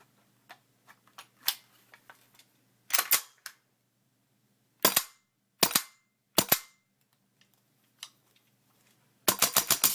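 A GHK AKS-74U gas blowback airsoft rifle fires outdoors in snow at about 1–2 degrees, with crisp single shots and short bursts separated by silent pauses. It ends in a rapid string of shots, with no talking.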